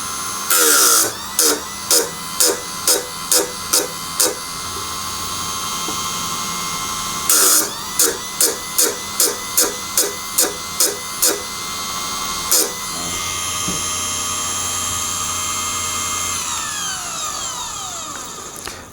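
Four-facet drill sharpener grinding the primary facet of a drill bit, a steady buzzing grind with two runs of rapid rhythmic clicks and scrapes, close and fairly loud, ending in a fading whine as the motor winds down.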